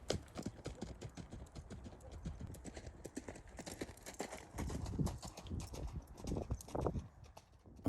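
A mustang mare canters, her hooves clip-clopping in a fast, steady rhythm at moderate distance, with faint scuffs and breathing between beats and no talking.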